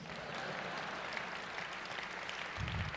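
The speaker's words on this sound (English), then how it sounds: "let's clap it up for these freaks" Audience applause at an SXSW Interactive 2014 conference session, a dense, steady wash of clapping that holds evenly throughout at moderate distance, with a low rumble near the end.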